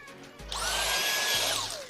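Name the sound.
vacuum cleaner vacuuming car interior with seat removed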